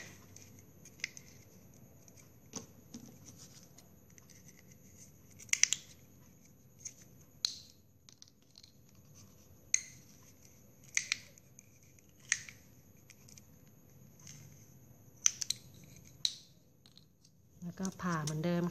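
Scissors snip through a folded plastic drinking straw being cut into a palm tree: about a dozen crisp, separate cuts at uneven spacing against a quiet room, with a voice starting at the very end.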